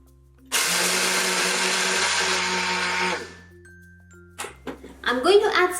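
An electric kitchen grinder blends coarse groundnut chutney with yogurt in a loud, steady whir for about three seconds before stopping, followed by clinking and a person talking.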